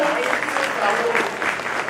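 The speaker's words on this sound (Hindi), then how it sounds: "तालियां होनी चाहिए एक बार" An audience at a ceremony honouring top-scoring students claps loudly and continuously, a dense, even wash of applause with no voices on top.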